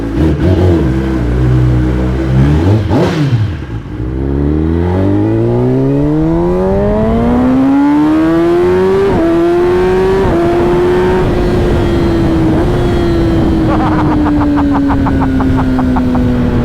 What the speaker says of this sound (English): the bike spins more freely and accelerates more aggressively